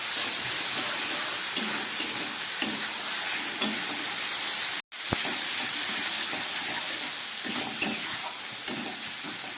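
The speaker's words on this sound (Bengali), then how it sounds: "এবার আমি খুব ভালো করে এই মশলাগুলোকে দিয়ে আলুটাকে কষিয়ে নেব।" Potatoes fry with ground spice paste, including dried red chilli paste, in a pan, producing a loud continuous hissing sizzle with soft stirring scrapes, a brief dropout midway, and no voices.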